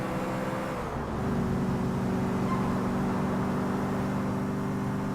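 Fast car driving in the PC game GTA IV, a steady droning engine with layered tonal hum that holds constant throughout, no talk over it.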